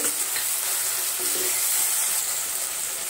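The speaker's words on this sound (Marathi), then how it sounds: "त्यामध्ये टोमॅटो मीडियम आकाराचा 1 घेतलेला आहे, तोही आपण परतून घेऊ" One medium tomato sautéing in a pan with asafoetida, a continuous bright hissing sizzle with faint stirring, close and steady throughout with no talk.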